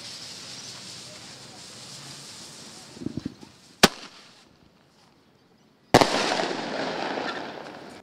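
Fireworks and firecrackers go off with a few crackling pops, a sharp bang, then a sudden loud burst followed by sustained hissing and crackle.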